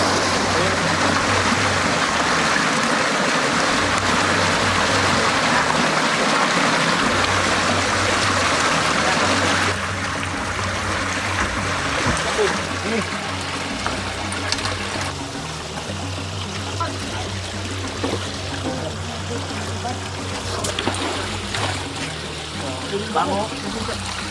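Water flows steadily out of a fishpond into a river, a continuous broadband rush that stays loud throughout and drops slightly partway through, with faint voices in the background.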